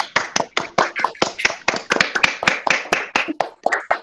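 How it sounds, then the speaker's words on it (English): Scattered hand claps from workshop participants unmuted on an online call, irregular and close-miked, overlapping at varied loudness for about four seconds with no voices. "give a round of applause to everyone and ourselves"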